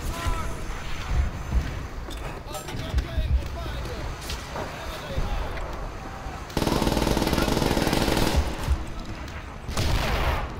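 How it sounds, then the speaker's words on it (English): Gunfire and explosions from a World War II shooter, World at War, rattle in dense bursts with a sustained loud stretch, while players talk over the chaotic firefight. "He fucking shot a rocket launcher at him."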